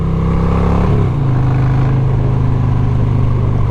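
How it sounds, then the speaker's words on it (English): A Harley-Davidson Road Glide motorcycle engine runs steadily and close by, a continuous low idle rumble with a slight dip in pitch early on and no talk over it. "It doesn't chop like a typical twin cam Harley"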